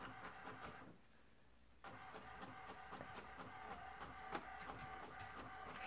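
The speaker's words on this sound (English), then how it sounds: "You started printing." A new printer prints in a cabin, with a busy run of rhythmic mechanical clicks and feed whirs, a brief quieter pause near the start, then steady clattering printing at moderate level.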